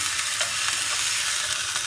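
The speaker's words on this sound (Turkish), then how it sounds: "İçine biraz yağ koyduğumuz tavamızda hamburger etlerimizi güzelce pişirelim" Steady, close sizzling of hamburger patties frying in hot oil in a pan, a continuous crackling hiss with small pops throughout.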